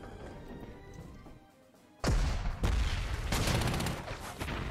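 Gunfire in the World War II strategy game Panzer Corps 2, set during the Fall of Poland: after a quiet lull comes a sudden loud blast followed by a second heavy report and a rumbling volley that fades.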